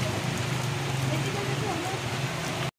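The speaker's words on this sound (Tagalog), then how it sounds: "Grabe po, biglang umulan." A sudden downpour patters loudly and continuously on a surface nearby, with a low rumble underneath; the rain cuts off abruptly at the end.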